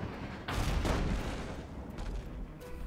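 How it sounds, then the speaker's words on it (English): Ship cannons firing in the Abandon Ship video game: two heavy booms in close succession, then a couple of lighter, more distant shots, close and loud with no one talking. "One of those cannons went over"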